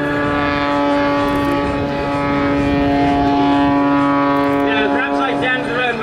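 A loud, steady propeller drone from an aerobatic plane flying at the 2017 Gulf Coast Salute airshow holds throughout, with a shifting pitch that suggests the aircraft is maneuvering.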